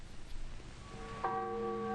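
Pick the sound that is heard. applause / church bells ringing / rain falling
church bells ringing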